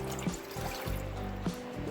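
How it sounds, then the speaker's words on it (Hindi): Water poured from a cup into a cooking pan for making masala Maggi noodles, a steady close trickle and splash running for about two seconds with no talking. "सबसे पहले पैन में हम 2 कप पानी ऐड करेंगे"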